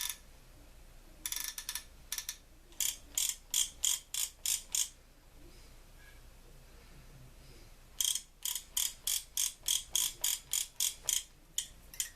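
Drag on an Abu Garcia Cardinal 556 fishing reel clicking in two bursts of rapid ratcheting ticks, separated by a quiet pause, close and crisp.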